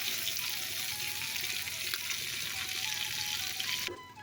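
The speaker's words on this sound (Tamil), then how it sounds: "இந்த மாதிரி பேனில் நம்ம கொஞ்சம் நெய்யோ பட்டரோ கொஞ்சம் சேர்த்துட்டு நம்ம சிக்கன் அடிக்கிட்டு மூடி போட்டு ஒரு 10 நிமிஷம் வேக வைக்கலாம்" Chicken cooks in ghee or butter in a pan over a low flame: a steady, dense sizzle holds close and loud before cutting off sharply near the end.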